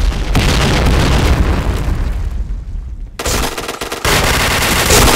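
Grenade explosions and gunfire in the Point Blank shooter game, with loud, dense bursts of rapid shots and heavy booms that briefly thin out before the firing resumes at full force.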